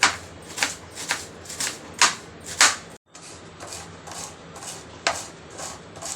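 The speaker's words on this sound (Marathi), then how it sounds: "तर आपण आता बारीक मस्तपैकी कोबी कापून घ्यायचा आहे," A knife finely chopping cabbage on a board for a quick stir-fried cabbage dish, a steady run of crisp close chops with a brief pause midway, no talking.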